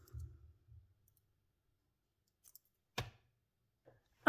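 Scissors snipping green crochet yarn, a single crisp click standing out in a quiet room, with a few faint soft handling sounds before and after.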